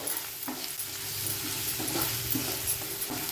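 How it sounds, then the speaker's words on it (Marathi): Chopped tomato being stirred into spices in hot oil over a low flame for dhaba-style dal palak, with soft scraping strokes every half second or so over a steady gentle sizzle. "हा पण गॅसची फ्लेम लो ठेवून आपण ह्याला व्यवस्थित मसाल्यांमध्ये मिक्स करून घेणार आहोत"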